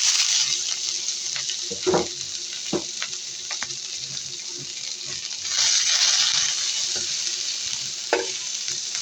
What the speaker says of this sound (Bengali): এখন আমি এই যে কেটে রেখেছিলাম পেঁয়াজগুলো ভেজে নেব